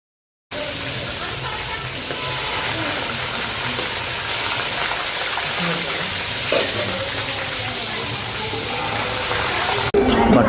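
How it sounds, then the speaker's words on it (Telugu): Fish frying in a pan of hot oil at home, a steady loud sizzle and crackle that runs continuously, close up, with faint talk in the background. "ఇక్కడైతే డాడీ అయితే ఫిష్ అనేది ఫ్రై చేస్తుండో."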